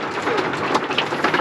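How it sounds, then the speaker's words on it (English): Hail drumming on the roof of a vehicle during a storm on a road trip toward Yellowstone, a dense, loud, continuous patter of rapid hits close overhead. "More hail."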